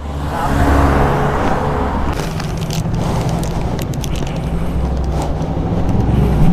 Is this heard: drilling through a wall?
no